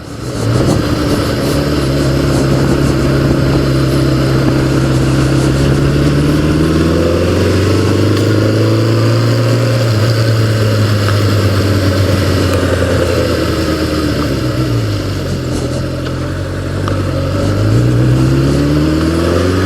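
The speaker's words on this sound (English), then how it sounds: "it starts up like a charm, fires up right away, settles into a nice steady idle." A 1988 Yamaha FJ600 sportbike engine running close by at a steady idle, a loud continuous mechanical drone whose pitch drifts gently up and down over about twenty seconds, with no voices.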